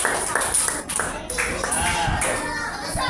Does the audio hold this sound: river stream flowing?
no